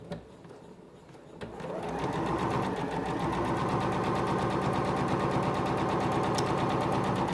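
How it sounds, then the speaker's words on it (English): A Singer Professional 9100 sewing machine runs in a fast, steady, even chatter as it stitches along a fabric edge. It starts after a short quiet lead-in and stays close and loud with no talk. "we'll push the pedal and just sew right along this edge"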